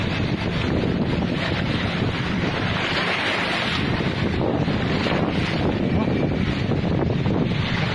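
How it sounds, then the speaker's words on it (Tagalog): Sea waves break against the rocks at Umbrella Rocks in Agno, Pangasinan, a constant loud wash of surf mixed with heavy wind buffeting on the microphone, with no voices. "Alon."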